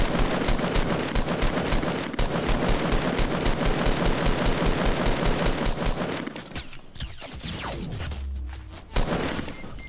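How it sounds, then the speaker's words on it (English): Gunfire in Fortnite Battle Royale on PS4, a loud sustained stream of rapid automatic shots for several seconds, then thinner scattered shots and a final thump, no talk. "Why is he shooting at me?"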